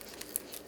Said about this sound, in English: you're just gonna cut down the middle to get rid of that tough